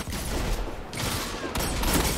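Gunfire in a competitive Destiny 2 match, sniper rifle shots among it: loud sustained bursts of shooting that cut off sharply twice and resume, close and dense throughout.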